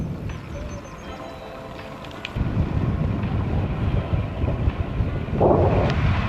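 Wind gusts buffet the microphone of a solo cyclist on Kent country lanes near Ide Hill, a broad, rumbling roar that swells louder halfway through and keeps blowing steadily.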